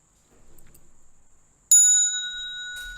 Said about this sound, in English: The bells sound wide, resounds throughout 100 million worlds.